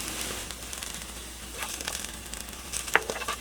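Carrots fry in a hot pan, giving a steady sizzle with a few sharp crackles and pops toward the end, close and moderately loud.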